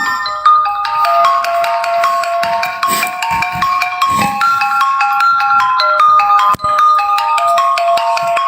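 A mobile phone rings with a melodic ringtone for an incoming call, the tone loud and steady, repeating its tune throughout with no talk over it.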